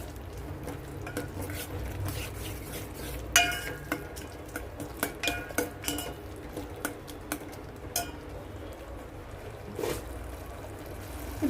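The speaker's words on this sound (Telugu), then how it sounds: "మంచిగా కలిపేసుకుందాం." A spoon stirs tomato rasam in a pot with a series of close, irregular scraping clinks against the metal, over a low steady kitchen hum.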